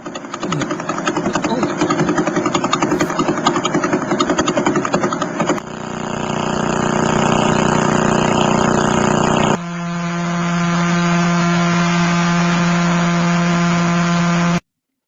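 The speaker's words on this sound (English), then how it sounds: "they recorded the sounds of all these pulsars, and I thought it sounds like a motorcycle" Recorded sounds of pulsars: a series of droning, buzzing engine-like tones, each steady and loud, switching abruptly to a new pitch twice; the last is a low hum with clear harmonics.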